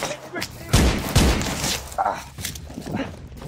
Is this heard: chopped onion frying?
no